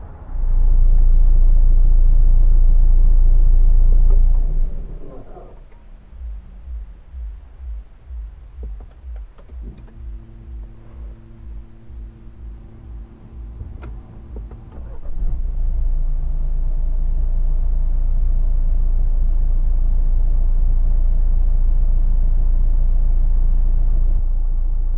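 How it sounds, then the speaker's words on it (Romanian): A 2016 Nissan X-Trail 1.6 dCi diesel with X-Tronic gearbox idles as heard from inside the cabin, a steady low rumbling drone with a quieter stretch marked by faint ticks and thumps in the middle before the hum returns. "Am lăsat special motorul pornit ca să auziți și cam cum se aude în interior."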